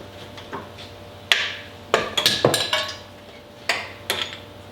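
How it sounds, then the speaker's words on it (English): Seal puller working on the pinion seal of a Dana 30 front axle from a 1972 International Scout, giving a few sharp metallic clanks and taps, spaced irregularly, close and moderately loud. "We're going to pull that pinion seal."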